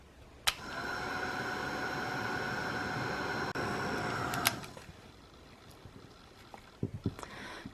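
Heat gun embossing a card on a craft sheet: a steady blowing whir runs close and even for about four seconds, then cuts off, followed by quieter handling clicks and taps.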